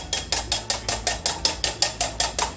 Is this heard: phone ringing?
no